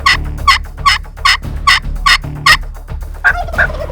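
A Merriam's turkey gobbles repeatedly at about 7,200 feet, loud close bursts of rattling gobbles in a quick regular series, about nine calls in a row.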